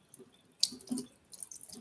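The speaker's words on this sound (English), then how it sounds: "So all the water that I'm dripping into the sink runs clear." Water dripping from a rinsed makeup brush into a sink, a few small, close drips and splashes, quiet and sparse.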